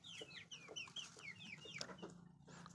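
Several chickens cluck in short, chirpy bursts, overlapping one another at close range with a steady low hum underneath.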